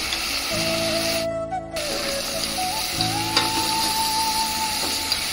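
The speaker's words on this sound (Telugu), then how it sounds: "ఇప్పుడు ఇది ఉడుకుతుంది కదా, ఇందులో మనము మిర్చి పౌడర్ వేసుకోవాలి" Sambar with coconut masala and red chilli bubbles and sizzles in a pot, a steady close frying hiss with a brief stir and a thin tonal whine running underneath.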